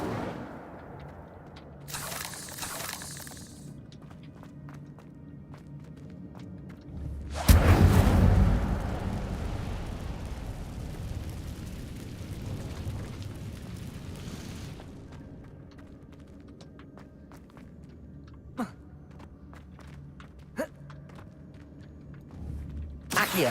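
The Incendio fire spell from the Hogwarts Legacy video game erupts as a loud, roaring burst lasting several seconds, then fades to quiet ambience broken by a few sharp clicks.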